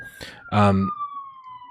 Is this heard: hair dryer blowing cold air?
no